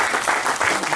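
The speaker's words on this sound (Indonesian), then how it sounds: "Tepuk tangan untuk Denpasar." Audience applause at a Balinese keris exhibition in Denpasar, a short steady burst of dense clapping from a crowd with no voices over it.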